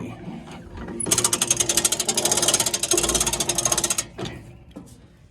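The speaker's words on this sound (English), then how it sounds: "I pull this knob to the on position, which engages this auger here and this one here" Augers on a farm feed grinder/mixer engage and run with a loud, rapid mechanical clatter and rattling for about three seconds, then stop, with quieter machine noise before and after.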